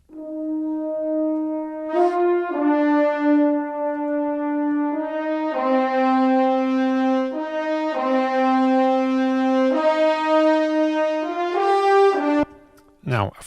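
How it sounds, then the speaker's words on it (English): Cinesamples Industry Brass horns play a slow legato melody alone, sustained brassy notes stepping up and down over about thirteen seconds, full and resonant, ending with a brief click. "So the horns on their own sound like this"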